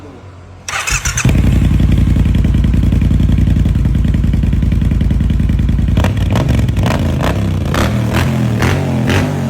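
A 2018 Triumph Bobber motorcycle engine cranks and catches, then settles into a loud, steady, throbbing idle with a few sharp blips of the throttle near the end.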